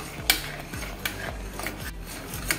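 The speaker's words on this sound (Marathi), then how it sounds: "व्यवस्थित ढवळतच राहायचंय, नाहीतर लगेचच ते खाली लागतं" Steady scraping and rubbing as a spoon stirs a thickening tel poli filling in a deep pot, with repeated close, gritty strokes at a regular rhythm and a few sharper knocks against the pot.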